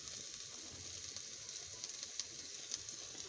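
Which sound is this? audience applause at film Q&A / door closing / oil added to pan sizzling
oil added to pan sizzling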